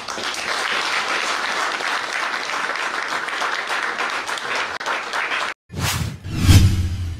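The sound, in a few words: applause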